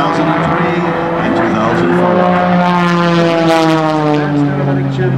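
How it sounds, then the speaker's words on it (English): An MX-2 aerobatic propeller airplane at an airshow flies overhead with a loud, steady droning engine whose pitch slowly sweeps downward as it passes, while an announcer talks over it. "This airplane, oh look at that as he slides across these beautiful blue skies."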